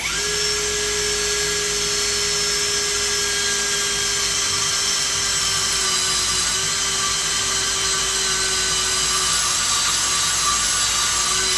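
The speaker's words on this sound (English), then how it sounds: "we're going to take our long drill bit here" Drill running continuously with a long bit boring a hole into a HEMI crankshaft in a tight space, a steady high whine held loud and close throughout with no speech.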